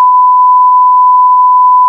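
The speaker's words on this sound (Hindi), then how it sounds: "सीपीयू के अंदर से आवाज आ रही है बीप बीप बीप बीप" A computer CPU cabinet with a hardware fault gives a single loud, steady electronic beep lasting about two seconds, ending abruptly.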